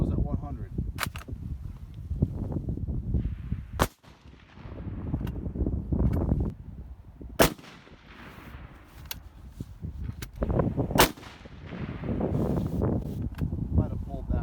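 A Mosin 36 military surplus rifle fires several loud, sharp shots at an outdoor range, spaced seconds apart, with someone talking between them.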